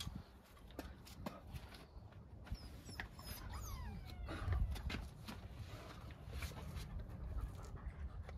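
A dog panting close by in a horse barn setting, quick soft breaths under faint hoof clops and rustling, fairly quiet overall.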